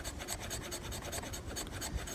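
Fine shavings scraped off wood with the 90-degree spine of a Woodlore-style bushcraft knife, a steady, close rasping scrape in quick repeated strokes with no talking.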